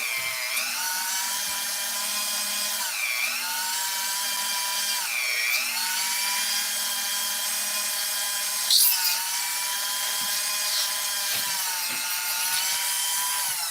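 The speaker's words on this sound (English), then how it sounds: "It's just a little cone bit. Clean out the burrs on the inside of the tube." A drill with a small cone bit deburrs the inside of a tube, a loud high whine that rises and dips in pitch over repeated passes, steady and close, with no talking.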